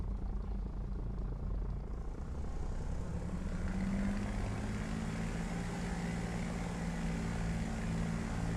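A propeller aircraft engine in a flight simulator game drones steadily and loudly, a continuous rumbling whine that holds without a break, with the pitch settling slightly as it runs.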